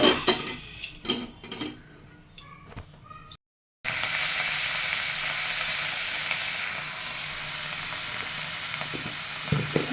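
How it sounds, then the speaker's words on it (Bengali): Potatoes fry in a pan with a steady, loud broadband sizzle that holds evenly for several seconds after a brief silence, preceded by scattered clinks and stirring noises. "আলু ভাজি করব"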